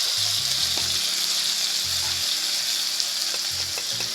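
Masala with tomato sizzles over low flame in a pan for mango crab curry, a steady close frying hiss with scattered scrapes and clinks of a stirring spoon, no voices.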